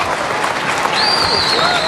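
Football crowd at a Port Adelaide match, the Magpie Army cheer squad roaring and clapping in a dense, steady wash of applause, with a whistle rising over it partway through.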